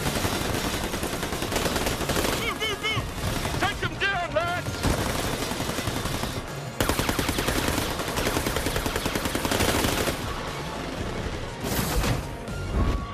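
Bursts of automatic gunfire mixed with explosions and crashes rattle through a video-game firefight in New Tales from the Borderlands, loud and dense, with whistling sweeps and voices breaking in partway.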